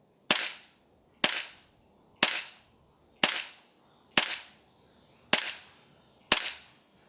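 Seven evenly spaced sharp shots from a Sig Sauer ProForce M18 airsoft pistol, each a crisp snap with a brief metallic ring, fired in a steady rhythm at close range with no talk.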